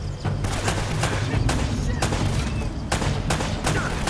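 Gunfire in the action video game Uncharted: Drake's Fortune, a loud, dense barrage of shots with sharp bursts punctuating a continuous roar of battle.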